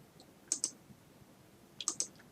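A computer mouse gives two pairs of crisp, close clicks, the second pair coming about a second and a half after the first, against a quiet background.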